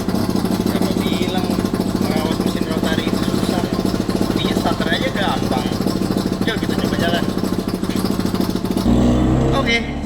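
A rotary-engined car idles with a steady, busy buzzing drone close by, while people talk over it throughout.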